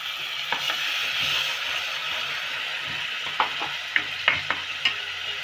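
Spice masala stirred in a pan for Dhaba-style palak paneer, a steady sizzling hiss with a few sharp scraping clicks of the spoon toward the end; no talking.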